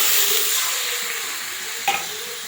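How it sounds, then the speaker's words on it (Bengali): Fried spice paste for a Bengali yogurt katla fish curry sizzles steadily in a pan as water is added, with a brief louder splash-like burst near the end and no talking. "মশলাটা কষানো হয়ে গেছে, এবারে জল দিয়ে দেবো।"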